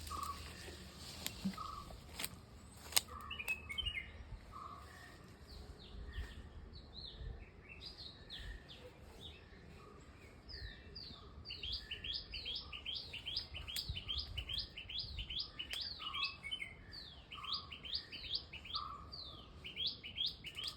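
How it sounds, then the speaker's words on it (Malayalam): Many small birds chirp and trill outdoors in the morning, calls overlapping and growing busier in the second half, moderately distant over a faint background hum. "കേൾക്കാൻ ഇമ്പുമുള്ള സൗണ്ട് കിളികളുടെ"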